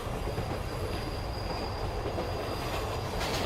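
Passenger train running on rails in a Telugu film, a steady rolling rumble with a faint thin squeal of wheels above it, heard from inside the carriage with no talk. A sudden bump comes at the very end.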